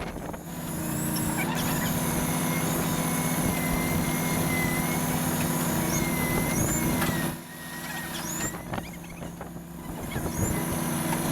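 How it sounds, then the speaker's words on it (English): A tow truck engine runs at a steady, heavy drone while winching a Snowcat outdoors, with a sustained low rumble and whining mechanical tones, a brief dip near the middle before the engine load picks back up. "we're gonna use his tow truck and pull on the front so that it'll work its way over this way"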